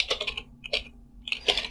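Fingers typing an IP address on a computer keyboard, heard as close, crisp key clicks in quick bursts separated by brief pauses, with no talking.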